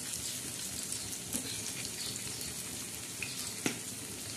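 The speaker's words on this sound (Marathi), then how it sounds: "तर म्हणून आपण तव्यावर ह्या वड्या भाजणार आहोत" Vadis roasting in a little oil on a hot tava, crisping on both sides: a steady, fairly faint sizzle and hiss with a few small pops and crackles scattered through it.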